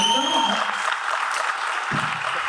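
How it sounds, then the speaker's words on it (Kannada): A crowd at an awards ceremony claps loudly and continuously for a best actress award, the applause filling the whole moment, with a brief voice near the end. "ದಯವಿಟ್ಟು ಜೋರಾದ ಚಪ್ಪಾಳಿಯೊಂದಿಗೆ ಸ್ವಾಗತಿಸಿ"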